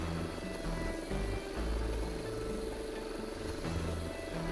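A hovercraft engine in a Diddy Kong Racing-style video game drones steadily, a continuous low whirring buzz with slight pitch wobble and no talking.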